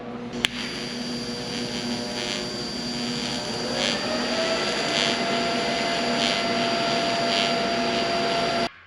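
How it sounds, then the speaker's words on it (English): Steady crackling buzz of a welder fusing a body mount onto a truck chassis frame for a coupe-turned-pickup cab, running loud and continuous for about eight seconds after a brief click. "Just gotta weld her up."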